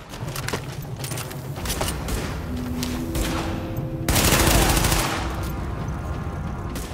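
Heavy automatic gunfire from a rooftop gunner in The Division, a dense loud fusillade of rapid shots that surges into a harsh burst midway, with faint game voices underneath.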